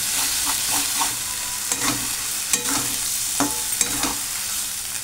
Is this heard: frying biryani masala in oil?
yes